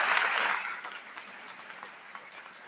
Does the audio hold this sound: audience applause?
yes